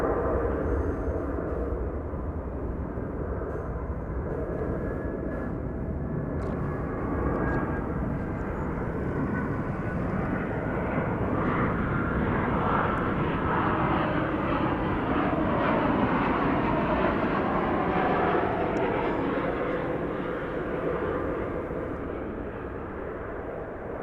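A jet airplane at DFW Airport roars loudly and steadily for the whole stretch, a broad sustained engine rumble and whine that swells slightly mid-way before easing off.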